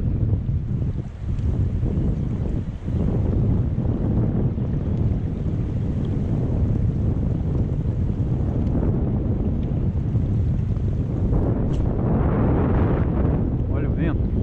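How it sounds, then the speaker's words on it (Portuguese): Strong, steady wind roars across a small fishing boat out on open water while fishing for big tabarana, a continuous broadband rush with gusts and faint splashes and knocks toward the end. "Olha o vento."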